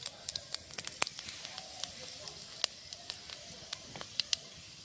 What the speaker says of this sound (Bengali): কড়াইতে দিয়ে দেবো সর্ষের তেল, দিয়ে দেবো একটা শুকনো লঙ্কা হাফ হাফ করে, গোটা পাঁচফোড়ন ফোড়নে দেবো।